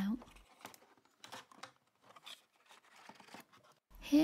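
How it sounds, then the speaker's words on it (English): Packing tape on a Sylvanian Families box being cut and the cardboard and plastic unpacked, with soft crinkling, tearing and scissor snips in short bursts at close range and no talking. "Then it's just a case of cutting the tape"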